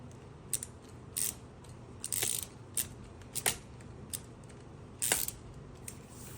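A GOYOJO preset torque wrench with a 1/4-inch drive, rated 2-24 N·m and able to turn both ways, clicks as its ratchet is loosened. About a dozen sharp, close metallic ticks come at an irregular pace over a quiet background.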